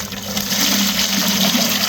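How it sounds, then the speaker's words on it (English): Clay and water slurry pouring steadily off through a sieve, a continuous close splashing rush of liquid for about two seconds with no voices. "So we're simply pouring that clay and water solution off"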